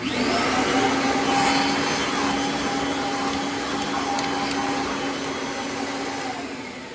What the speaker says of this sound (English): I will vacuum these off before I put them on.